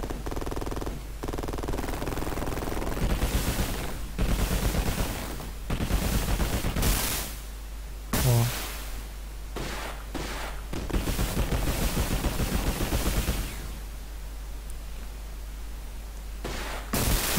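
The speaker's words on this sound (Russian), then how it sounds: "Стреляет." Gunfire from the Sega Genesis game Urban Strike comes in repeated loud rattling bursts and fusillades, split by short pauses, with no voices over it.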